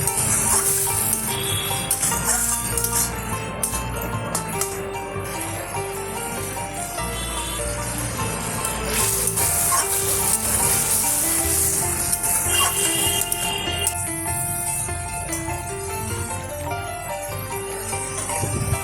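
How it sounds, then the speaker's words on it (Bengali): Spice paste for egg curry sautés in hot oil, a bright, continuous sizzle and crackle with occasional stirring scrapes, close and steady with no talking. "মশলা থেকে তেল ছেড়ে এলে সামান্য নুন আর গুলে রাখা মশলাগুলো ওর মধ্যে ঢেলে দিয়ে আরও বেশ কিছুক্ষণ কষিয়ে নিতে হবে"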